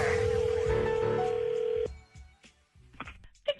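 A telephone rings in a radio prank-call segment with a continuous electronic tone, fairly loud and steady for almost two seconds, then stops and gives way to quieter clicks and brief voice-like sounds.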